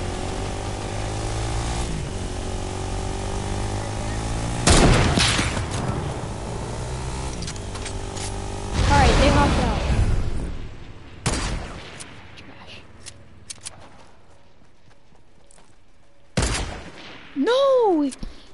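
Sniper rifle shots in a video game solo match, sharp broadband cracks standing out over steady engine and vehicle drone with some in-game noise, several bursts spread through the scene.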